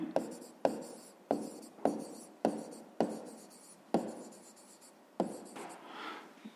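A pen or pencil writes by hand on paper in a series of sharp, distinct strokes about every half second to second, close and clear, with faint room noise and no voices.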